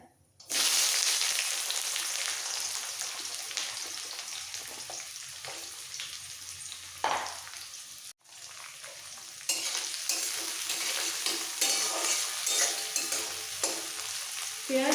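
A medium-sized onion fries in hot oil with cinnamon pieces for jackfruit curry over a medium-high gas flame, giving a loud, steady sizzle with stirring scrapes and one brief pause partway through, no talking.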